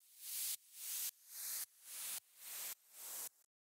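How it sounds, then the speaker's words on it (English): Six repeated rising noise sweeps, each swelling in brightness and cutting off sharply, evenly spaced like a rhythmic riser effect. "First of all, I've got this sweep of mine,"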